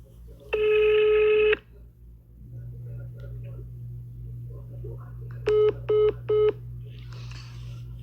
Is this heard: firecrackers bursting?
no